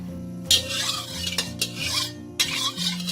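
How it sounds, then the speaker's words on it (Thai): A metal pan scrapes and swishes as oil is swirled around, with a few sharp grinding strokes over a low steady hum; no voices. "เรากิ้งน้ำมันให้ทั่วกระทะเลยนะ"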